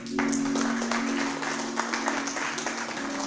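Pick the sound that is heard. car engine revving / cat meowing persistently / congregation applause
congregation applause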